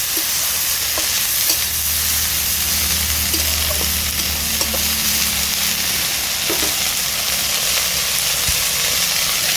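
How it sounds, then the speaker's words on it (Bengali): Dhekia fern greens and red lentils stirred in a hot frying pan, with steady sizzling and repeated scraping of the spoon throughout, loud and close with no talking. "এক চিমটে লবণ দিয়ে দেব সব কিছু নেড়ে চেড়ে নিচ্ছি"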